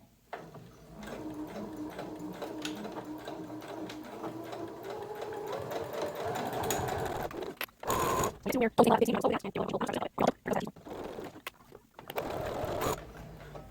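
A sewing machine runs steadily through several layers of fabric for a slipper, humming close and even, then gives way to louder broken bursts of stitching while a person talks.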